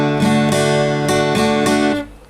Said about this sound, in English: with a D we're only going to strum 4 strings because the D doesn't use the top 2 strings